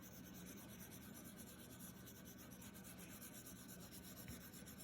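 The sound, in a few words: pencil tip shading on paper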